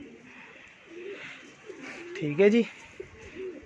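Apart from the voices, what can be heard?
pigeons cooing on a rooftop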